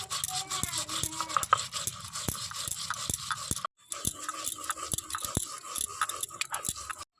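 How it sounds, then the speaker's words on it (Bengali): Cumin is ground into paste on a traditional grinding stone for a Bengali rohu fish curry, giving repeated rhythmic scraping and knocking strokes, close and fairly quiet, with a brief pause midway. "প্রথমে জিরাটা বেটে নেব"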